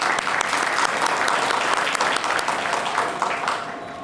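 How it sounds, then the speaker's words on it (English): An audience applauds community college performers at a trade show, a dense, loud burst of many hands clapping together that holds steady and then begins to fade near the end. "Could we all give them a big round of applause?"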